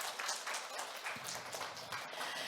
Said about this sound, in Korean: 다시 한번 멍멍대마왕 팀을 위해서 큰 박수 부탁드립니다.